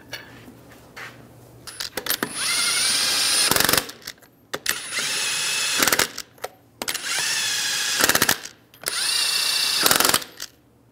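A power tool runs on lug nuts on a 2011-2018 Ram 1500 wheel in four bursts of whirring and rattling. Metallic clicks and clinks of handled parts sound between the bursts, close and loud.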